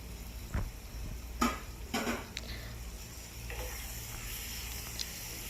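Prawns go into a masala in a pan and get stirred, giving scattered scraping and clinking of the spoon against the pan over a low, steady sizzle.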